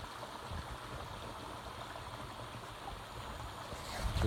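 A stream flows through a woodland river channel, a steady close rush and gurgle of water that swells slightly louder near the end.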